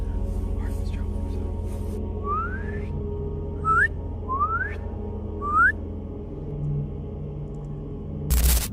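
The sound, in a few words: distant whistling at night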